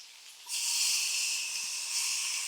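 Peppers hit a hot pan and a steady, soft sizzling hiss swells up abruptly and carries on evenly for a couple of seconds, fairly quiet and with no voices.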